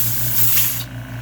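Compressed air bursts from an air compressor hose, a loud broadband hiss for under a second that cuts off abruptly, leaving a low steady compressor hum in the background.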